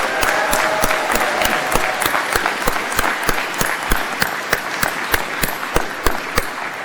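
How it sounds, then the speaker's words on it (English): Convocation crowd applauding the incoming class, a broad wash of clapping punctuated by loud, evenly spaced sharp claps close by, continuing throughout. "let's give the class of 26 a round of applause"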